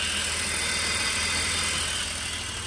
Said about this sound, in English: with the engine noise, I'm bringing the phone up so you can hear me better